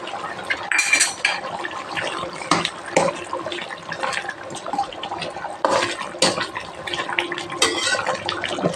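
Black pepper being pounded by hand for a chicken curry in a home kitchen, with repeated sharp knocks and clatter over a steady background wash, some strikes louder than others.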